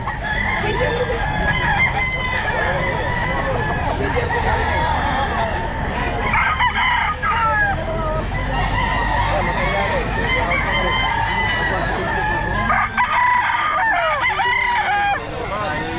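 Roosters and other gamefowl at a pet market crow loudly and repeatedly over constant clucking and background crowd chatter.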